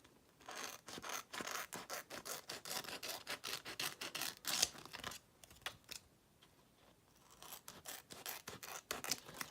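Scissors snip steadily along the border of a laminated cash envelope, a close, rapid series of crisp cuts and rustles with a short pause midway before the cutting resumes.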